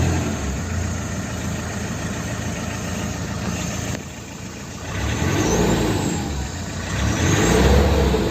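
Brand new engine of a Mahindra Scorpio prototype runs close by, holding a steady idle, dipping briefly, then swelling into two rising revs.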